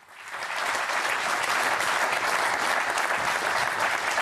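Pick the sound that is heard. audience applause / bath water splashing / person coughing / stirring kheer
audience applause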